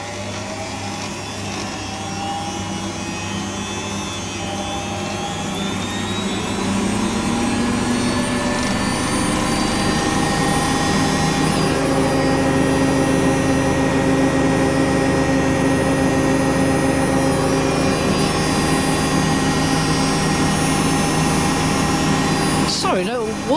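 A washing machine spins a load of towels up to 1600 rpm, a steady whine and drone building over the first several seconds and then holding loud and even, with talk faintly over it.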